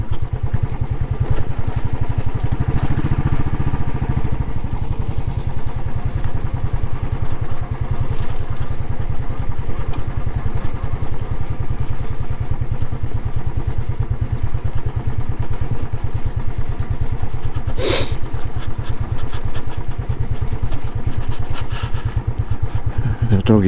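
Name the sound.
Royal Enfield Classic 500 motorcycle engine riding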